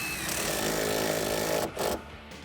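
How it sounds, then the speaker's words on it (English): A deep socket drives an 18mm nylon lock nut tight on a rear shock mount of a 2005-2014 Mustang, a steady whirring power-tool drone that runs loud for under two seconds, then cuts off with a short final burst. "Grab your deep 18 socket and tighten that down."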